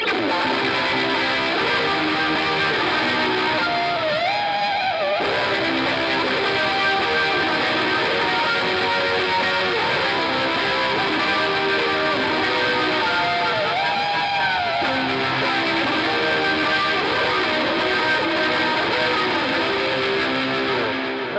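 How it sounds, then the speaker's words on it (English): Ambient electric guitar played through heavy distortion with a constant wash of reverb forms a dense, sustained cloud of sound, with a couple of faint swelling note bends rising out of the steady drone. "you can leave everything open but with a distorted sound, so you can get a constant distorted cloud of reverb behind your sound"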